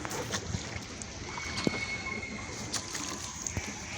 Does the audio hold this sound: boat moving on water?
yes